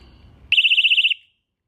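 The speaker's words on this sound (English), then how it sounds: "the entire lake and 3 counties over might hear that fucking bite alarm" An electronic fishing bite alarm lets out a loud, rapid run of about ten steady high beeps lasting roughly half a second, after some low rumbling handling noise, then falls silent.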